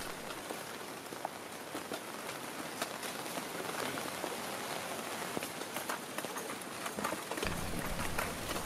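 Steady rain patters densely on surfaces, a continuous soft hiss of drops with no voices.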